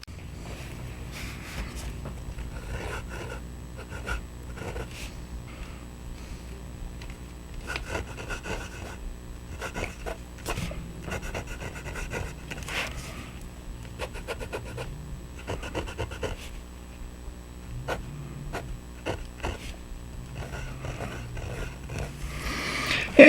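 A PenBBS 480-54 fountain pen with a custom-ground architect nib scratches and rubs across paper in a steady series of short strokes, close and fairly quiet, with a faint crisp sharpness and no talking.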